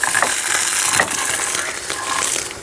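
Jackfruit seeds frying in a pan give off a steady close sizzle mixed with scraping and stirring scrapes, rising and falling slightly as they are turned, with no voice over it.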